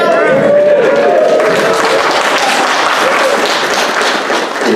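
Audience applause at a USO comedy show at a military training area, a dense wash of clapping and crowd noise filling the whole stretch, with voices and talk mixed in over it.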